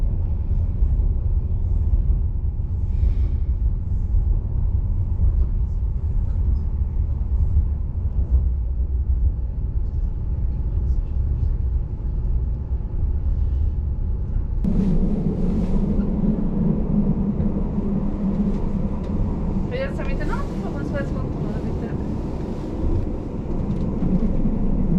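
An old, luxurious Swiss train runs with a steady low rumble throughout, its sound growing heavier and louder midway, with faint squeals and rattles on top and no voices.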